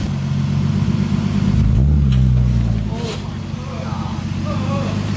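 A forged turbo M50 engine in a BMW E30 with a new exhaust drones steadily up close, swelling briefly as it revs and then settling, while people talk over it.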